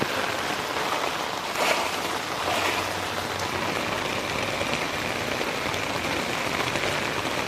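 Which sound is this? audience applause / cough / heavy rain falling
heavy rain falling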